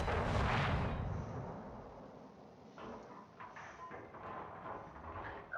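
Warship main guns boom over an island in World of Warships, a heavy rumbling blast up front that rolls off into a long low roar with lighter thuds trailing behind, loud and without speech.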